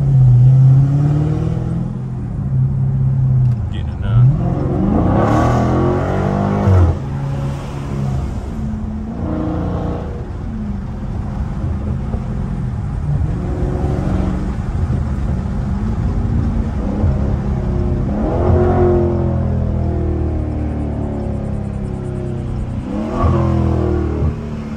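A Dodge Charger Daytona Scat Pack with its mid mufflers cut off revs loudly and repeatedly, its engine rising and falling in long throaty pulls with a deep rumble close to the listener, no talking throughout.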